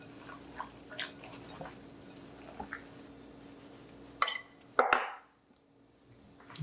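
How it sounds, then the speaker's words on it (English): Shredded green papaya for a raw vegan salad being tossed in a bowl, with soft wet squishing and occasional utensil clinks against the dish, quiet and close, then two sharper knocks near the end. "we just start adding our green papaya, and just mix"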